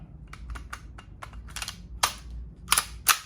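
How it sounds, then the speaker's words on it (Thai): A Ceonic SIG Sauer P320 blank pistol fires: light mechanical clicks come first, then three loud, sharp cracks close together near the end, heard up close with no talking. "ยิงก็ไม่มีติดขัดลูกก็คัดออกปกติได้นะครับ"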